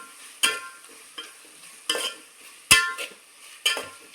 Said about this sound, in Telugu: ఒక 1/2 స్పూన్ అండి పసుపు వేసుకొని అట్లా కలబెట్టేసుకోవాలి